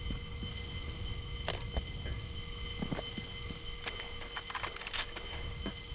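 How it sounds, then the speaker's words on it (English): A continuous electronic alarm in Soldier of Fortune II rings steadily throughout, with sharp intermittent gunfire and impact bursts punching through the din. "Turn that fucking alarm off."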